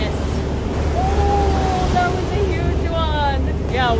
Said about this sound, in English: Did you see the big old waves?